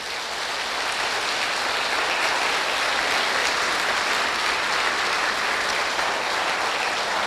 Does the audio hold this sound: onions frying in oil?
no